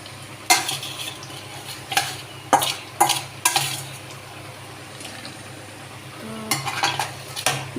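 Pangas fish curry fries in a pan as cumin paste is stirred in, with a low sizzle underneath and repeated scraping, clattering stirs of a utensil against the pan.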